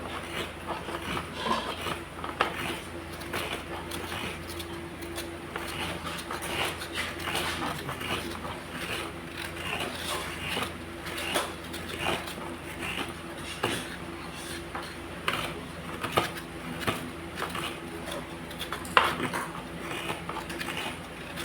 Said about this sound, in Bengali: এখানে নারকেল কোড়া চলছে, নারকেল কোড়া হবে